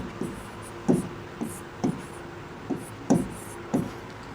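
Pen writing on paper during a maths lesson, a series of short scratchy strokes in an irregular rhythm, close and fairly quiet against a faint room hum.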